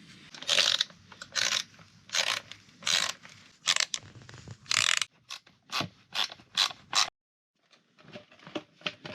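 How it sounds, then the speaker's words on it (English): The factory headlight housing is being removed from a KTM 701 Enduro motorcycle, heard as a close series of sharp, rapid ratcheting clicks and plastic snaps in irregular bursts, ending in a brief pause and then lighter clicks. "we just have to take off the factory headlight housing"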